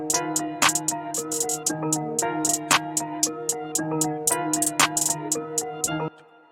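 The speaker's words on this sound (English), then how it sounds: "And that together with the clap and melody sounds like this." A trap beat plays with busy ticking hi-hats, sharp recurring claps and a sustained melodic synth line, looping steadily for several bars before cutting off near the end.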